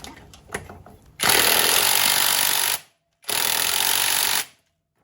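An impact wrench hammers at gearbox bolts on a Ford Fiesta ST, firing two loud sustained bursts after a few short clicks and knocks, with a brief silence between the bursts.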